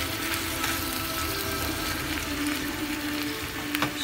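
Curry ingredients sauteing in a hot pan over medium heat, a steady soft sizzle of frying with faint scraping of stirring, close and quiet, without talk.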